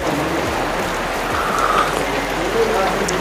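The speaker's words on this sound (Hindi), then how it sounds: "बारिश हो रही है, काफ़ी तेज मौसम गरज रहा है" Heavy rain falling, a steady, loud, dense hiss with no letup from start to finish, the downpour heard close by.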